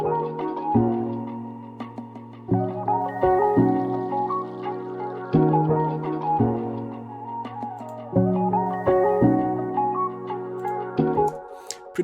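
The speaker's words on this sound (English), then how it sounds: "This is a reverse guitar." A reverse guitar loop, pitched up an octave and treated with EQ and reverb, plays as a melody of swelling chords over a low sustained bass, repeating in two-bar phrases at a moderate volume with no talking.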